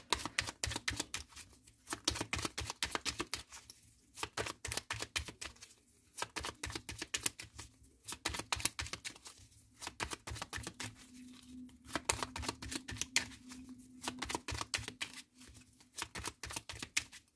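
Tarot cards shuffled by hand, repeated quick riffling bursts of papery flicks coming in regular rounds about every two seconds, close and fairly soft.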